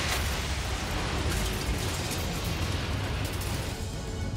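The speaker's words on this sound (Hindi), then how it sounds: "उन्होंने मिसाइल की मदद से इस पूरे मॉल को ही धमाके से उड़ा दिया" A missile strike blows apart a shopping mall in the Russia-Ukraine war, a dense roaring blast of rumble and debris noise that stays loud and continuous for several seconds.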